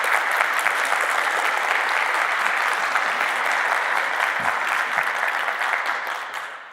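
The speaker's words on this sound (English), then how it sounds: "let's give a big warm applause to all these teams who have been building on TON" Conference audience at a tech event applauding, dense sustained clapping from a large crowd that fades slightly toward the end.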